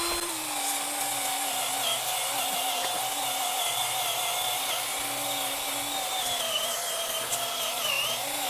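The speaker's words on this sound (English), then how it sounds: "Now we're going to take our grind wheel again." A grinding wheel cuts into a brick paver during a loose-paver repair, giving a continuous high whine that wavers slightly as the blade bites, close and loud with no talk.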